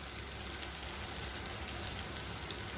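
Tomatoes and onions sautéing in a kadai for egg masala curry, a steady close sizzle and crackle of frying with no talk.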